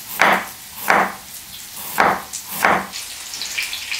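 Knife slicing down through radishes on a cutting board, four distinct crisp chops at a slow, uneven pace, close and clear with no talking, then softer handling sounds.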